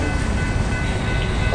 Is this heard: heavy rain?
no